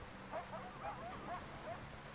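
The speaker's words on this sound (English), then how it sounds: "No, they're coyotes." Coyotes yip in a video game, a series of short high yelps and barks repeating irregularly over about two seconds, fairly faint against a low background hum.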